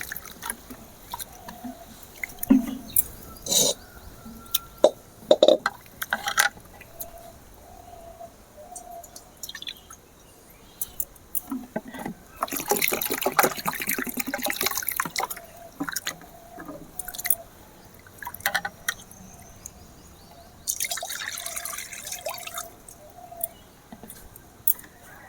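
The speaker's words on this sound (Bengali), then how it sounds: "এবারে আমি সাবুটা ভালো করে ধুয়ে নেব।" Sago pearls being washed in water in a bowl, with soft drips, squishing and sloshing in irregular bursts, close up and fairly quiet, and no talking.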